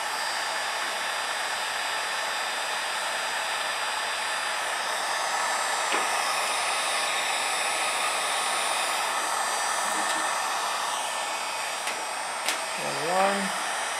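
Heat gun blowing hot air onto car badge lettering, a continuous steady whooshing hiss with a motor hum that runs unchanged for the whole stretch, with a brief clatter near the end.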